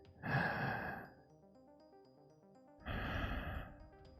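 Two slow, calm breaths taken before a breath-hold dive, each a soft airy rush lasting under a second, separated by a quiet pause, close and clear with no talking.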